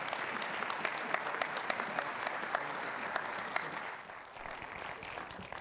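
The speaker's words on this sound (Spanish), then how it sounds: "Vamos a recibir al pastor Flores con un fuerte aplauso." Congregation applauding in church to welcome Pastor Carlos Flores at a Sunday morning service, steady moderate clapping with sharp individual claps standing out, easing off toward the end.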